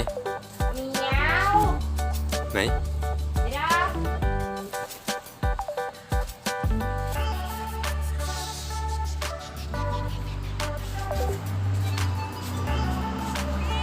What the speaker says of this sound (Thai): แมวเหรอแมวบ้านใครอ่ะ